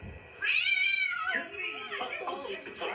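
A cat meows in a long, rising and falling cry in a Barney storybook scene, followed by shorter, softer mewing, with a voice speaking lightly underneath.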